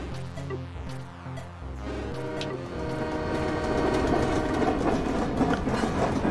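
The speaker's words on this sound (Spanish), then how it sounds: "Que van a venir trenes y me tengo que apartar." Trains rumble past in a video game, a low mechanical drone joined by rising, building clatter that grows louder and denser toward the end, with no talking.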